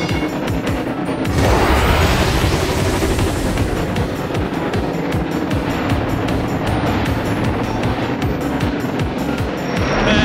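Racing engine revs up in the Thomas & Friends: Go Go Thomas kids' video game, a loud, steady roar of engine noise that builds and holds for several seconds with no talk.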